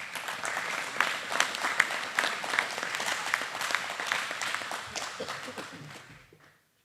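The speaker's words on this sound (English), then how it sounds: "Please give one more round of applause for our Leadership Award recipients." A banquet crowd applauds Leadership Award recipients at an FFA chapter event, a sustained round of close, crisp clapping that holds steady and then tapers off into quiet at the end.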